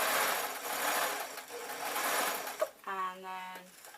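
Domestic sewing machine stitching fabric for an old-fashioned artist's painting smock, a steady close whirring run starting after a pause and a short handling knock, with fabric rustle and handling noise before it.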